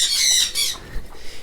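A chicken lets out two harsh, close squawks in quick succession, followed by quieter rustling.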